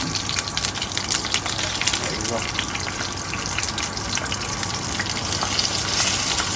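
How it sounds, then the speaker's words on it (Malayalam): Onions frying in a pan for a Kochi-style fish chilli curry with curry leaves, a steady broadband sizzle and hiss running throughout at close range, with faint speech-like sounds mixed in. "ഉള്ളി ഇവിടെ കിടന്ന് പൊരിയുന്നുണ്ട് കേട്ടോ"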